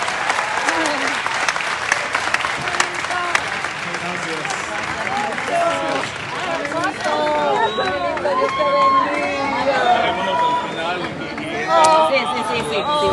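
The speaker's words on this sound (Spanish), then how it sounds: "qué coro tan bonito" Concert crowd in Ciudad Juárez singing along in chorus, a dense, loud wash of many voices with applause and cheering blended in, sustained throughout.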